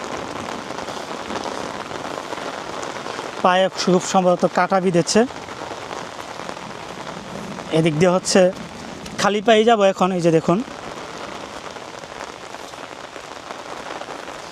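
Rain falls steadily near the bank of the Meghna river, a dense continuous patter on surfaces close by, with someone talking over it in several bursts.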